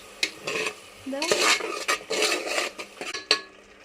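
Village-style goat meat curry is stirred in a metal pan, with a spoon scraping and clattering against the sides in uneven strokes. Faint sizzling sits underneath, close and clear, with no talking.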